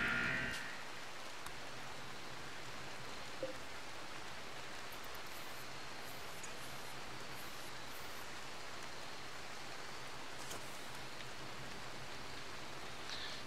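Rain in the colony-building game Rimworld falls as a soft, constant hiss, faint and even throughout, with a few brief light ticks near the start and toward the end.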